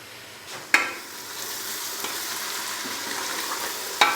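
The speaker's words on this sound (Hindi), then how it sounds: "तो अभी प्याज को हम तकरीबन 3 से 4 मिनट के लिए अच्छे से फ्राई कर लेंगे" Onions frying in a pan for a beef onion curry, steady close sizzle with a few sharp stirring scrapes and clinks, no talking.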